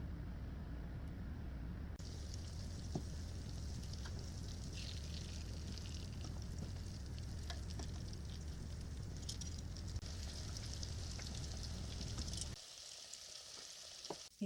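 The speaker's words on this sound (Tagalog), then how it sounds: "Iprito na natin." Pork ribs coated in egg fry in hot oil with a loud, steady sizzle and crackle throughout, then the noise drops away sharply near the end as the frying stops.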